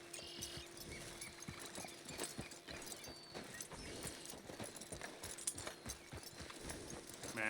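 Horse hooves clip-clop in a steady walking rhythm in Red Dead Redemption 2, close and clear, with faint game ambience and an occasional snort underneath.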